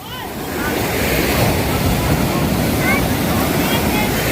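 Ocean surf rushes in a broad, steady roar that swells in over the first half second and then holds loud and continuous, with gusty wind noise blowing across the microphone.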